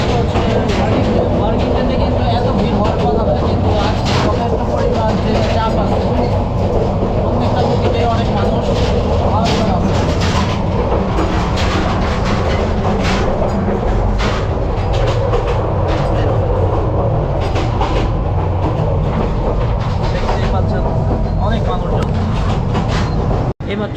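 The Tista Express passenger train runs on rails on a Dhaka to Mymensingh route, with a loud, continuous interior rumble and rhythmic wheel clatter throughout and people talking over it.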